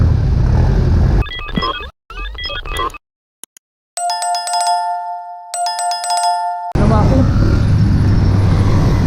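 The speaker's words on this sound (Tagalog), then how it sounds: "grabe traffic talaga kahit Sabado" Heavy Saturday road traffic rumbles in Kawit, Cavite, heard loud and close from a Honda GTR 150 motorcycle. Engine and road noise drop out midway behind a run of bright, ringing electronic beeps, then the traffic roar returns. Voices come through at times.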